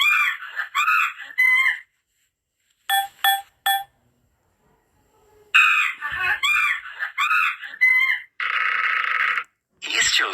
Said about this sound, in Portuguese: Este é o som do macaco.